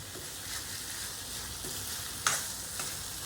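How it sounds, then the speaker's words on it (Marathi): Capsicum and tomato with salt are stirred in a hot pan for pav bhaji, a steady close sizzle with soft scraping strokes and one brief sharper clink of the spoon. "व्यवस्थितपणे मिक्स करून"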